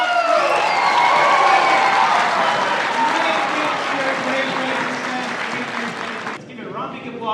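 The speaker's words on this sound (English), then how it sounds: "Can I get a big applause?" Applause and cheering from an audience at an elementary school event in Syracuse, a loud dense roar of clapping with shouts and whoops layered on top, easing slightly before a brief dip near the end.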